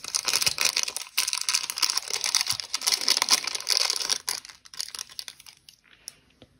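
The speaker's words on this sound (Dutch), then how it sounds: "En die haal ik even uit het zakje." A small metal key from a craft supply unboxing is pulled out of a small plastic bag. The bag gives off close, busy crinkling and rustling that fades into a few quieter rustles at the end.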